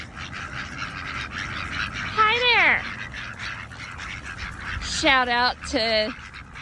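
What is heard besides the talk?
ducks and geese at a park pond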